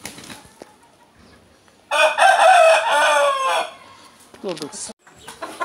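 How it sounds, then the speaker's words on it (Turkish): An Indian breed rooster crows loudly and close by in one long, wavering call, with brief softer clucks and farmyard noise after it; someone says a single word just before. "bu horoz bize yeter."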